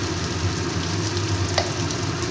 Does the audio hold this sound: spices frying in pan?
yes